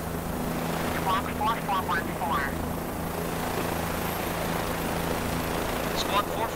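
A Bell 407 police helicopter in Microsoft Flight Simulator gives a steady, broad rotor and engine drone with a low hum, while brief radio-like chatter sounds in the middle.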